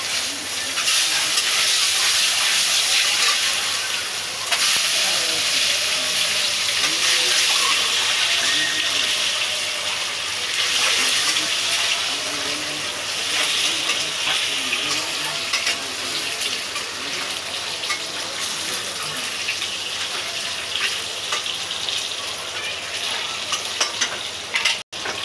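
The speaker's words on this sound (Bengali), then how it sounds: "তেলের মধ্যে আমি হলুদ দিয়ে ডিমটাকে আমি ভেজে নিলাম।" Eggs, rubbed with salt, fry in hot oil with turmeric for an egg curry, a steady dense sizzle and hiss that runs unbroken throughout with occasional soft stirring.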